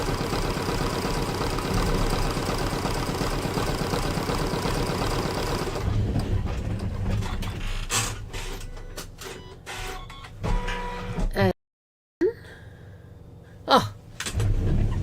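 An embroidery machine stitching an in-the-hoop hand sanitiser holder design, giving a fast, steady mechanical whirring and rattling up close that later turns into more uneven, stop-and-start clatter with a short silent gap.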